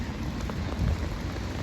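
Steady rain pours down in Dubai, a dense, even hiss of drops hitting surfaces, close and continuous with no voices over it.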